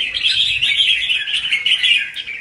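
A caged red-whiskered bulbul sings alone, close and clear, in a continuous run of bright chirping phrases with no other sounds.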